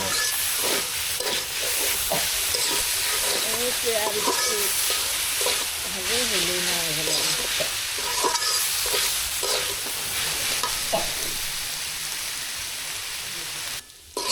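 Green banana peel frying in a pan gives a dense, steady hissing sizzle with occasional spatters and stirring scrapes, loud and close, fading slightly near the end.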